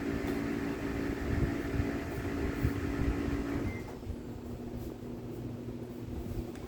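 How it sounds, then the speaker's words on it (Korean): A large indoor air conditioner runs noisily with a steady broadband whoosh and low hum, then drops to a quieter hum partway through as its noise eases; no one speaks. "그 에어컨을 틀어놨더니 시끄럽네"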